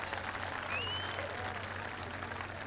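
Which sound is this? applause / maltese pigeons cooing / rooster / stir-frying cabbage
applause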